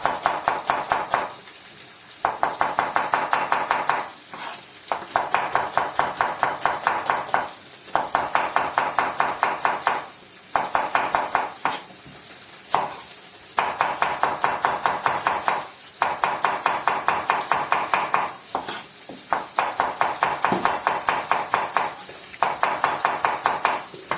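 A knife chops onions rapidly and steadily on a cutting board in repeated bursts, each run of fast strokes separated by brief pauses.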